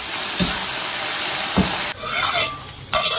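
Spices, star anise and soybean paste sizzle in hot oil in a wok as they are stir-fried, a steady loud hiss broken by a few scraping stirs, with no talk.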